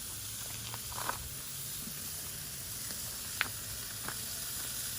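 Chicken thighs sear on a grill with a steady low sizzle and hiss, broken by a few faint pops and ticks, close and even throughout.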